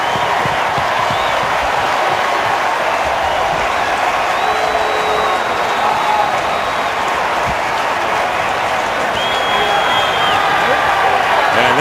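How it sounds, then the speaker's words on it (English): Stadium crowd cheering and applauding after a Washington Redskins touchdown against the Rams in a 2015 NFL game, a dense, loud, continuous roar with scattered whistles throughout. "And there is Kirk Cousins getting the crowd into it as well"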